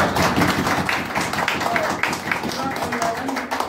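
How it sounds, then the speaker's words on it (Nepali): Audience applause at a Progressive Youth Association Nepal valley-level youth gathering, welcoming the general secretary to the stage: steady, dense clapping from a crowd for several seconds, fairly loud and close, with a murmur of voices mixed in. "यस स्टेजमा सबले जोरदार तालीले स्वागत गर्नु।"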